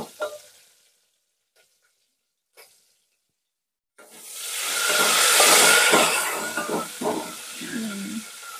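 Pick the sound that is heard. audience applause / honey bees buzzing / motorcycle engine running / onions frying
onions frying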